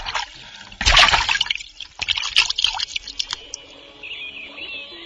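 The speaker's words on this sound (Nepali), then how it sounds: "माझीहरूले साली नदीमा जाल हाली हेरे" Water splashes as a net is cast into a river by fishermen, with a loud burst followed by scattered smaller splashes and trickling, then a faint steady hiss.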